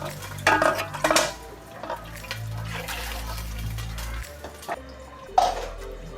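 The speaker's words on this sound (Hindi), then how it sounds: "चार गिलास में पानी डालूँगी" Water goes into a cooking pot for soaked basmati rice while making fish biryani, with a low rushing pour under sharp metallic clinks and clatter of pot and utensils.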